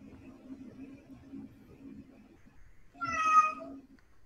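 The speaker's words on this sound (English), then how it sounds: "we hear Mitch's cat" A cat meows once, loud and close, picked up by an unmuted microphone during a live stream, rising over a low background murmur.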